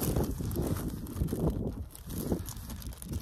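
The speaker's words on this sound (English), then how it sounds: "Wind's picked up just a little bit. It's not as still as before." Low, rumbling wind buffets the microphone at a wild camp in the Lake District, steady and moderately loud across the whole stretch with no voices.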